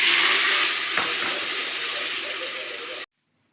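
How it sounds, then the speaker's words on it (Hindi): Fenugreek seeds and cumin crackle and sizzle in hot oil in a cooking pot, a loud steady hiss with a small clatter near one second, cutting off abruptly after three seconds. "और इसको कड़कड़ाना है और फिर बाकी मसाला डाल के भूनना है।"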